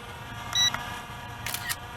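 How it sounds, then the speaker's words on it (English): Two quick camera shutter clicks come from a phone app controlling a RUKO U11 PRO quadcopter, crisp and close, with a soft beep, against a quiet outdoor background. "I can hear the shutter on the phone app"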